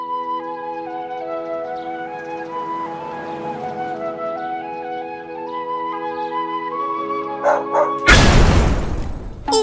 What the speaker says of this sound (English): You blew up the dog!